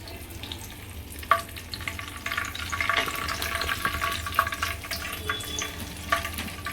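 Vegetable pockets deep frying in hot oil give a steady bubbling crackle, with a few sharper clinks and pops scattered through, and no voices.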